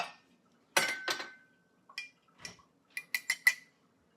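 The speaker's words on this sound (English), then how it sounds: "Now we're going to scramble our eggs." Eggs being scrambled in a bowl with a utensil, giving a short run of clinks and scrapes followed by quick separate taps against the rim, close up and otherwise quiet.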